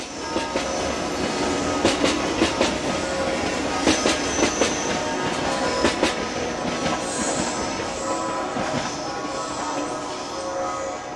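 A 40-year-old Swiss BLS locomotive hauls a train past at close range, wheels beating a loud, steady clickety-clack with regular rhythmic knocks throughout.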